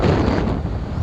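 Strong wind buffeting the microphone in an open area, a loud, steady roaring rumble with gusty fluctuations throughout and no one talking.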